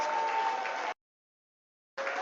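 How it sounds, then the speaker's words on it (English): Audience applause at a stock exchange listing ceremony for an asset management company's IPO at NSE India, a burst of clapping that cuts out abruptly, goes silent, then resumes. "Can we have one thunderous round of applause for what we just witnessed?"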